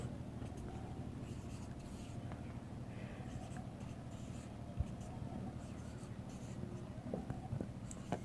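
Marker or chalk writing notes on a board during a Hindi lesson, soft continuous scratching under a steady hum of room and background noise, with no clear speech.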